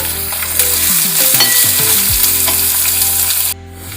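Finely chopped onions frying in a pan for a garlic spinach and peas sabzi: a continuous, loud sizzle with occasional stirring scrapes and crackles, close up, then dropping abruptly near the end.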